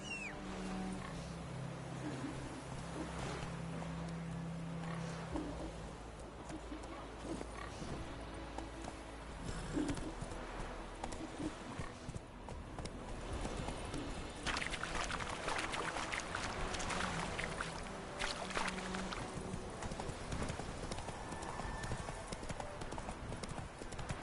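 The horse Roach gallops in The Witcher video game, its hooves pounding in a rapid, continuous clip-clop rhythm over game ambience and faint background sound.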